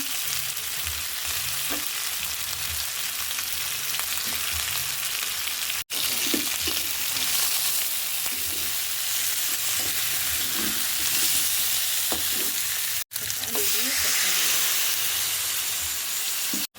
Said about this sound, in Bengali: মাছটা আমি কষিয়ে নিচ্ছি পানি দিয়ে,